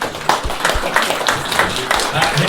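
An audience at a Rosebank opening event claps in a brief, moderately loud round of applause, with voices talking over it.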